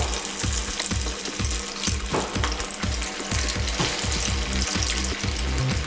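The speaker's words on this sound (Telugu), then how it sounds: "ఆయిల్ మంచిగా వేడయ్యాక మనం ఇప్పుడు ఫ్రై చేసుకుందాం." Sabudana vada fry in hot oil, giving a loud, continuous bubbling sizzle with rapid crackling pulses and no voices.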